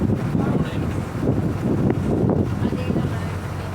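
A government passenger boat cruising the backwaters between Kottayam and Alappuzha, with a steady low engine drone and gusting wind buffeting the microphone throughout.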